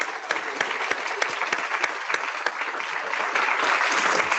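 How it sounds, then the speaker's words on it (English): Newly oathed physician assistant graduates at a white coat ceremony applaud, a close, lively crackle of many hands clapping that holds steady and grows slightly fuller toward the end. "Give yourselves a round of applause."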